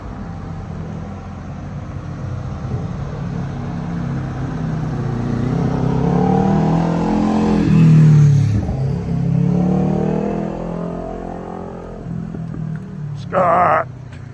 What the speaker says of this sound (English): I can hear the generator and the bus going.